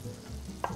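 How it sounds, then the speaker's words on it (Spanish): Plantain slices fry in hot oil with a steady, soft sizzle and a brief crackle near the end, close by and without voices. "Ya vemos cómo se están friendo de bien nuestras tajadas."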